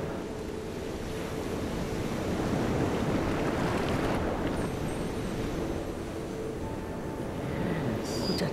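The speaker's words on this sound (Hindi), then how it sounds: "सिर्फ लहरों की आवाज़ है" Ocean waves crash against rocks as a continuous loud wash of surf with wind noise, swelling slightly in the middle and holding steady throughout. No one speaks.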